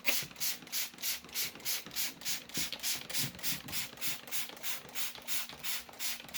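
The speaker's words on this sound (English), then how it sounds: "And then I'm going to spray it pretty good." Rapid rhythmic spritzes from a spray bottle hit paper bedding in a worm bin, a quick even series of close hissing bursts with no talking.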